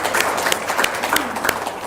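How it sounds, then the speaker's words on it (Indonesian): Brief applause from an audience at an Islamic religious talk, a short burst of steady clapping filling the moment. "Tepuk tangan dong luar biasa."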